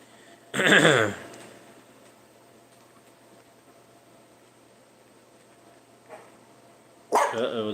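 Dogs barking indoors at home, with a loud close burst of barks, a quieter yelp later and another burst at the end, over a steady background hum.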